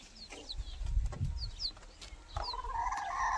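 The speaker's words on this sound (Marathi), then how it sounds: "आता आमचा कोंबड्यांचा खुरवडा दाखवते" Hens in a village coop give soft, scattered clucks and short calls, fairly faint and close, over a quiet background with light rustling and no talk.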